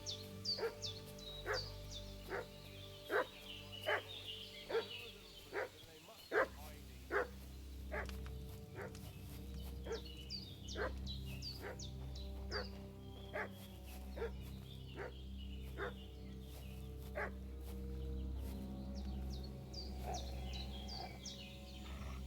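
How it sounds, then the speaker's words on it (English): A dog in the medieval village of Kingdom Come: Deliverance barks in a fast, regular series of yaps, pauses, then starts another run. Birdsong and a low outdoor ambience sit underneath. "What's that dog making such a fuss about?"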